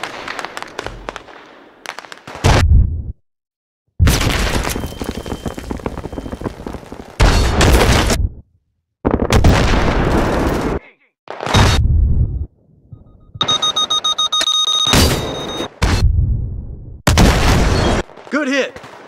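Gunfire and explosions in the video game Battlefield 3, a series of loud, heavy booms and bursts separated by short silences, with a tank battle implied and shouted radio-style voices in places.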